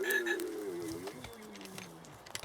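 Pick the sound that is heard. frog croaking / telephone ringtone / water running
frog croaking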